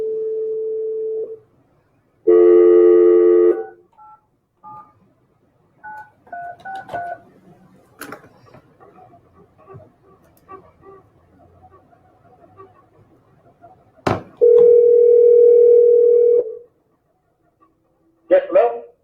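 Touch-tone keypad beeps of a cell phone number being dialed, a quick run of near, loud tones in bursts followed by long ringback tones, with a dog barking faintly and scattered noise in between.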